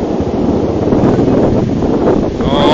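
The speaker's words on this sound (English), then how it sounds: "It's still windy over here." Strong wind roars across a forest after a windshear storm snapped trees, a loud, constant rushing buffet on the microphone with gusts rising and falling.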